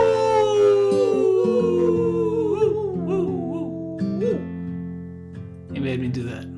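Person imitating a wolf howl, a long sliding vocal tone gliding downward with wavering bends, loud and close, followed by a few shorter yelping rises and a burst of laughter or noise at the end.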